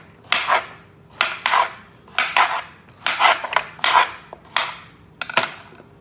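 A knife chops vegetables into big chunky pieces on a board for chicken soup, in about eight crisp, loud, evenly spaced strikes, some doubled, with no talking.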